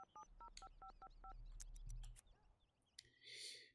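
A landline telephone in The Sims Pet Stories plays a quick run of eight evenly spaced dialing tones, followed by a few sharp electronic blips and a short airy burst near the end.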